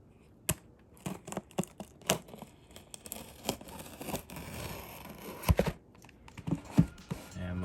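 A blade slicing and tearing through the packaging of an iPhone 15 Pro Max box, with sharp irregular snaps, crinkles and plastic rustling up close in a quiet room.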